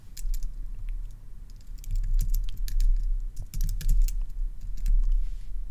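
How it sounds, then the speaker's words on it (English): Typing on a computer keyboard, a quick irregular run of close, crisp key clicks over a low background hum, with no voices. "Then simply type on your keyboard to use the new font."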